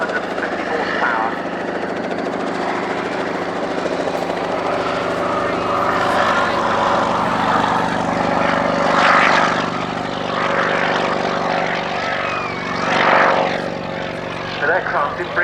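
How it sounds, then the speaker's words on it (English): Bristol 171 Sycamore helicopter with a 9-cylinder air-cooled 550 hp Alvis Leonides radial engine, flying at an airshow: loud, continuous rotor and engine roar that swells and fades slightly, with voices talking over it. "oh, the noise of the 9-cylinder air-cooled Aldous Leonides radial engine at 550 horsepower"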